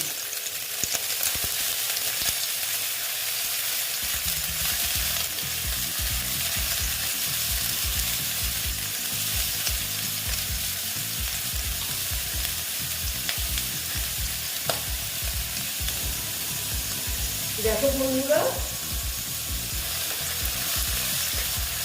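Potol (pointed gourd) and onion fry in a pan with egg while being stirred, a continuous close sizzle with repeated scraping strokes and a brief spoken phrase near the end.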